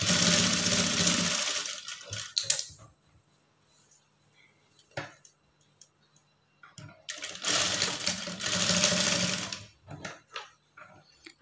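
A sewing machine stitches a lined blouse in two loud runs of rapid whirring, with quiet handling clicks and taps in the pause between them.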